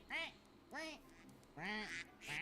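Ducks quacking in a video game on an island, four distinct nasal quacks in quick, uneven succession, fairly close and clear against a quiet background.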